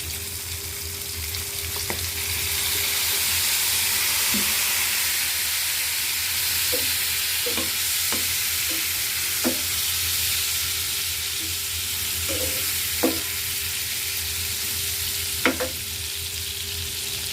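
Fish curry being stir-fried in a pan after Maggi sauce goes in, with a steady close hiss of frying and scattered light clinks and scrapes of a utensil on the pan.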